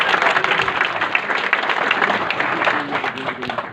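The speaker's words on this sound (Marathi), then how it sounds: "या सगळ्यांसाठी परत एकदा जोरदार सगळ्यांनी टाळ्या." Loud, close applause from a crowd at a public gathering in Kundalwadi, sustained throughout, with a voice speaking over the clapping.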